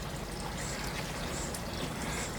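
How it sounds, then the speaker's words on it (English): DE powder poured slowly into a Pentair Quad DE pool filter, a continuous close-up rushing and watery hiss that stays steady and even throughout with no talk. "you just slowly pour the DE into the filter, and it'll get sucked into the filter"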